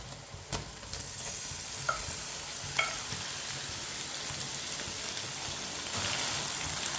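Beef hisses and sizzles in a hot karahi as it is stirred, with occasional scrapes and clinks of the spoon over a steady close frying noise and no talking.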